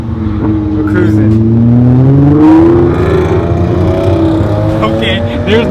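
A Nissan GTR Track Edition tuned to about 650 horsepower on boost and E85 cruises with the windows down, its engine drone climbing steadily and loud from inside the cabin while people talk.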